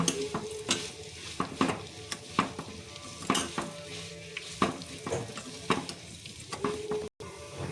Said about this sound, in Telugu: సిమ్లో పెట్టుకొని బాగా వేయించుకోవాలండి. కొంచెం ఎర్రగా వచ్చేంత వరకు బాగా వేగించుకోవాలి.